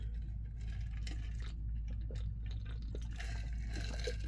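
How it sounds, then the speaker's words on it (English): Ice-cold water being drunk by someone with a dry throat, close up, with wet gulping and liquid sounds over a steady low background hum and no talking. "Thank goodness for ice cold water."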